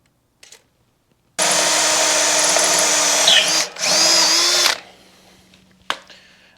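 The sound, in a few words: power drill bit drilling a hole, with Tap Magic cutting fluid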